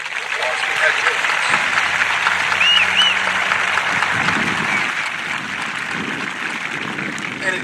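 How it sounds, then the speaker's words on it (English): Sustained crowd applause at a high school graduation ceremony for scholarship recipients, steady clapping from a large audience throughout, easing slightly toward the end. "Let's give everyone a round of applause."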